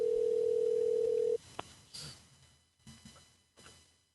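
A steady telephone dial tone drones for over a second as a call is placed, then cuts off, followed by a short beep and faint background rustling and breaths.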